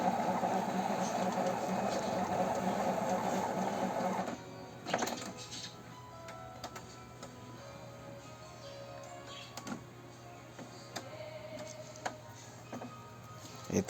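An Epson L14150 inkjet printer runs a print head power-cleaning cycle, with a steady mechanical hum for several seconds, then quieter intermittent clicks and ticks from the mechanism at close range, with no talking.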